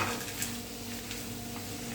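Mint leaves sauté lightly in a pan with soft stirring and a faint sizzle, close and quiet, with a small clink at the very end.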